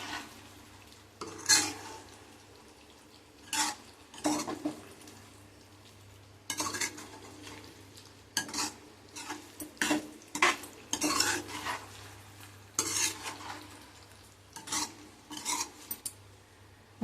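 A spoon scrapes and stirs a potato and brinjal curry in a pan, with irregular clinks and rasping strokes over a quiet simmer. The sounds come in short bursts separated by pauses.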